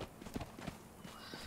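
A horse in the video game Conan Exiles clops its hooves in a quick uneven rhythm and gives a whinny, fairly close and moderately loud, with no speech over it.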